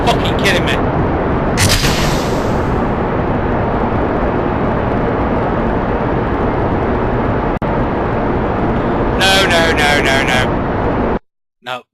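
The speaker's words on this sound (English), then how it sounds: "It's going to get very noisy very quick, but hopefully it'll quieten down once the liquid rocket booster starts" Roaring rocket booster engines during a launch in the Kerbal Space Program game, a loud continuous rumble that runs almost unbroken for about eleven seconds, with short bright bursts near the start and end before cutting to silence.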